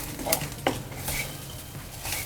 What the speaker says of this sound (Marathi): आता हा छान भाजून घेते मी मीडियम गॅसवर.